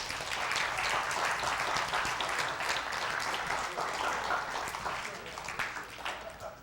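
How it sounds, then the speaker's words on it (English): A canned applause sound effect is played from a button: a dense, steady burst of crowd clapping lasting several seconds, easing slightly toward the end. "Give me a hand clap."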